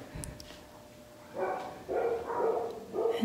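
A dog in a basement under renovation gives a few short barks and yips, fairly faint and somewhat distant, coming in bursts after a quieter stretch with no talking.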